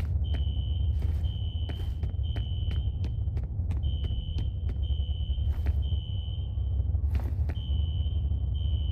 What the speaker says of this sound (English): A fire alarm. It was triggered at a security office on that floor.